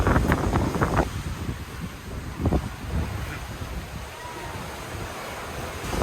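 Wind and surf from the open sea during a squall aboard a sailing boat, a loud steady roar of gusts buffeting the microphone over rushing, breaking waves.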